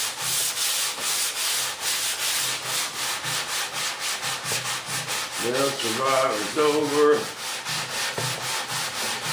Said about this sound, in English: Been doing some sanding.